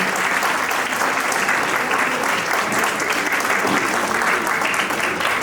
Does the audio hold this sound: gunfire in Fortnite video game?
no